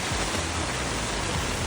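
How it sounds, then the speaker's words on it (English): Heavy rain pouring down at night on an urban city-centre carp fishing spot, a dense, unbroken hiss that fills the whole clip, close and steady. "Listen to that rain."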